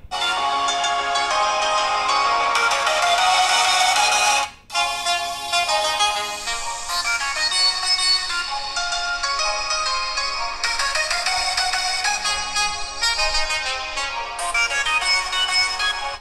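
A loud melodic ringtone from a Redmi 9 Prime phone speaker during a speaker test runs steadily for about sixteen seconds with one brief dip early on, and no one speaks over it.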